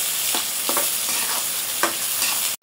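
Onions frying in oil in a pan, a steady dense sizzle with occasional soft stirring knocks, close and continuous until an abrupt stop.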